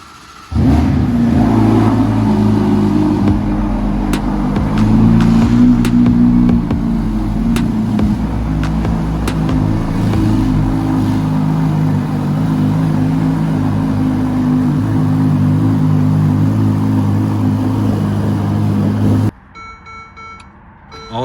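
A Ferrari Roma sports car engine gives a steady, loud hum with a brief rise in pitch early on, continuing evenly before cutting off abruptly near the end.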